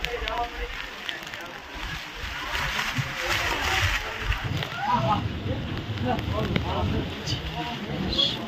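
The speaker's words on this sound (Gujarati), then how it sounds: "ભાઈ ધોધમાર વરસાદ છે." Heavy monsoon rain falls on Girnar mountain in fog and strong wind, making a dense, splashing roar all around. People talk over it throughout.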